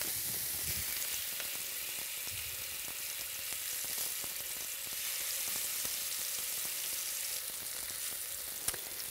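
Fresh tuna searing in a hot pan, a steady, close, bright sizzle that holds even throughout with small crackles and pops and no voices.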